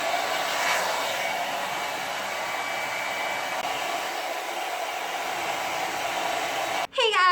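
A hair dryer blows hair with a loud, steady whooshing drone close up, running continuously without talk until a brief cut at the end.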